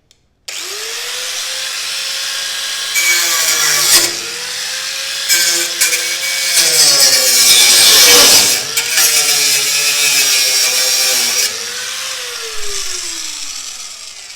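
A power cutting saw slices through a steel bumper bracket while a VE Valiant wagon bumper is fitted to a Valiant ute, giving a loud, sustained whine that rises and falls in pitch as the blade bites, with no talk.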